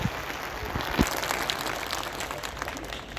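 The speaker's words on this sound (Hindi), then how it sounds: "हमारे श्री जसवंत सैनी जी, जरा जोरदार ताली बजाइए आप लोग" Audience at a statue unveiling event applauding minister Jaswant Saini, a steady wash of clapping held throughout with no talk over it.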